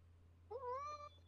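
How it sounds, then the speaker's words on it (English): A house cat lets out a single short meow, clear and close, rising then falling over about half a second against a quiet room with a low steady hum. "Do you hear my cat?"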